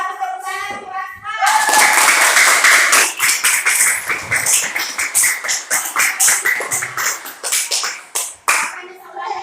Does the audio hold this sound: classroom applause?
yes